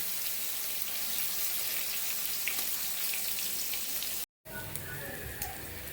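Palm fruit kernels frying in a pan over low heat give a steady, soft sizzle that runs evenly throughout, broken by a brief silent gap near the end before the sizzling resumes.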